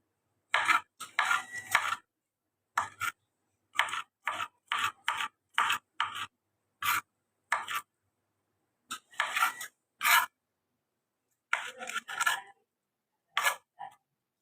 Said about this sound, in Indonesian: Tomat dipotong kecil dulu.